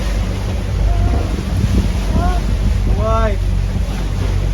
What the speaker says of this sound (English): there's crazy lots of winds, and our wind readings doesn't work